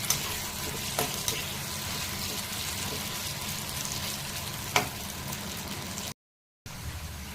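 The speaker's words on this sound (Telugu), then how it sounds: "తరిగిన ఆలు ముక్కలు వేసి కొంచెం ఫ్రై చేయాలి." Chopped potato pieces sizzle steadily in a pan with cumin seeds, a dense continuous fry with a few stirring knocks, close and even throughout, with a brief dropout near the end.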